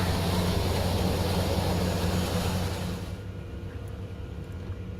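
A TBM 900 turboprop engine running at idle in the X-Plane 11 flight simulator, a steady droning whine and hum that drops noticeably in level partway through and continues more quietly.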